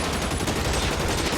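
Continuous gunfire in the video game L.A. Noire, a dense, unbroken rattle of rapid shots that keeps going steadily at a fairly loud level with no pauses.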